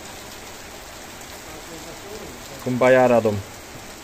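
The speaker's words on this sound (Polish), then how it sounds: "Oczywiście cali mokrzy, deszcz nas złapał, no jakoś damy radę." Rain hisses steadily around an Audi 80 Cabriolet being driven in a downpour, a constant close wash of noise. A person speaks briefly near the end.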